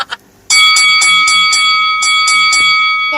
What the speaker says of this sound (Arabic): الراجل ابن الورمه اللي عمال يرن في الجرس